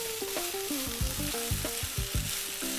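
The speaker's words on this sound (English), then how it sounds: "About 5 minutes, let's fry that rice." Basmati rice fries with spices such as turmeric in a pan for a bhuna lamb curry, a steady close sizzle broken by repeated scraping stirs and spoon knocks, with no voices.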